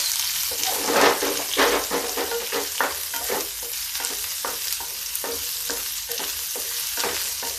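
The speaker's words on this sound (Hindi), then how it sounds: "ये प्याज को भूनेंगे" Chopped onions fry in a pan of cooked masala for a paneer-style chana dal curry over high heat, a steady sizzle broken by rhythmic scraping strokes of a spoon stirring them, close and clear, with no talk.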